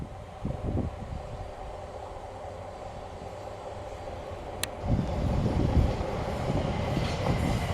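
A model train climbs the steep gradient out of Dover on a loft model railway layout, a continuous low rumble and whir that swells louder and rougher toward the end.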